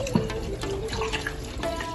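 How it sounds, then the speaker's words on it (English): Water pours steadily into a cooking pot in the kitchen, a close, continuous splashing stream for about two seconds without speech. "I'm going to add some more water"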